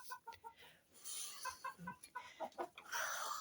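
A hen in a backyard coop clucking in short, quiet bursts, a few soft repeated notes followed by a brief squawk, close but faint, with no talking.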